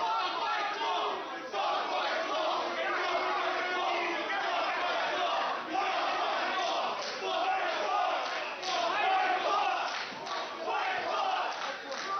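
A wrestling deathmatch crowd roars and shouts continuously, a dense wall of cheering and yelling voices filling the arena for the whole stretch, with no single voice standing out.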